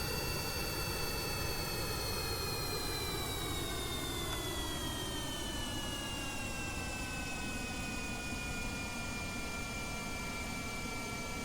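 Steady jet-like whine and broad roar of a plane engine in the K92 aircraft descending in Kerbal Space Program, one continuous loud tone gliding slowly lower in pitch, with no talk.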